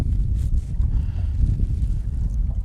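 Strong wind buffets the microphone in a continuous low roar with gusty rises and falls, close and loud, with no voices.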